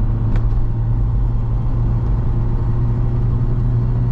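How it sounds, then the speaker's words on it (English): A Vauxhall Cavalier CD engine drones steadily from inside the moving car, a loud, constant low rumble with no distinct gear-change break. "Let's go into second gear."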